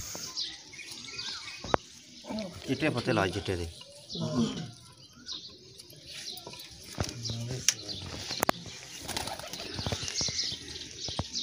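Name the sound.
pigeons released in village pigeon-flying contest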